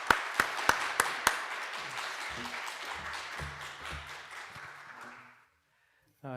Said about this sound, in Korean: 우리 교수님 앞으로 모실 때 우리 박수로 크게 환영하겠습니다.